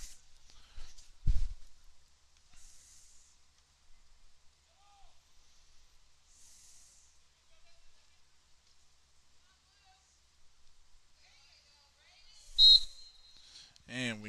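Referee's whistle at a high school boys soccer match, a short sharp blast standing out against quiet field ambience, with a brief loud knock early on.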